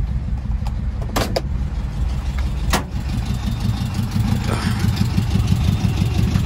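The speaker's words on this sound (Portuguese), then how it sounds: "Deixa o motor ligado só um minutinho mais ou menos para baixar um pouco a temperatura" A Volkswagen Kombi van engine idles steadily at a petrol station to cool down, with a low, continuous rumble punctuated by a few brief clicks and knocks close by.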